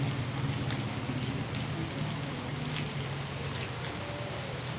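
Steady rain falls in Panthawada, a dense, even hiss of drops on surfaces that holds at a constant level throughout with no voices.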